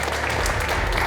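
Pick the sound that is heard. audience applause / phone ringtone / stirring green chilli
audience applause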